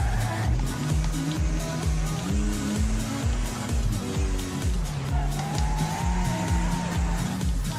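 A race car engine revs and shifts repeatedly during a video game race, its rising and falling whine stepping through the gears in a steady rhythm, with occasional tyre squeal and a voice talking faintly over it.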